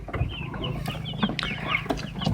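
Young chickens hatched from an incubator, now about two months old, cluck and chirp continuously at close range while grazing on grass, with several overlapping soft calls and no talk.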